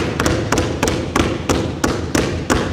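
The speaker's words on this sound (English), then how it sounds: "So we're going to start by pounding the ball in our right hand and we're going to keep it below our waist" A basketball pounded hard on a floor in a steady one-handed dribble, about three loud thuds per second, close and repeated evenly with no talk.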